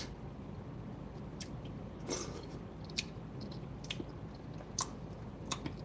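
Someone chewing soft quinoa close to the microphone, with quiet, wet mouth sounds and occasional small clicks and smacks spread irregularly over several seconds, faint overall.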